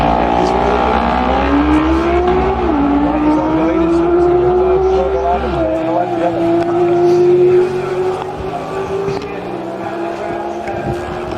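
Two-stroke lightweight racing motorcycles scream past on the Manx Grand Prix road course, a loud, sustained high-pitched engine whine with rising and falling pitch as bikes accelerate and shift, close and dominating throughout.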